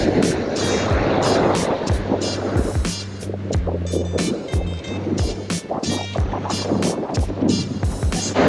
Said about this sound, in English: It's deafening out here, and wind is cutting right through me.